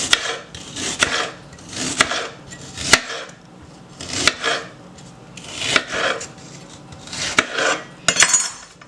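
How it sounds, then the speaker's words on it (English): A knife slicing through onion on a board, several rough rasping strokes spaced about a second apart, close and clear with no talking. "now with my onion, I'm going to just slice the onion like that"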